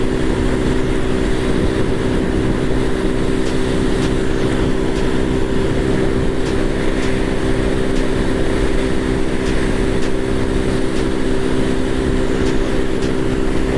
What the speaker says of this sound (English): I'm trying my level best, pushing all the way, but the bike somehow is not going more than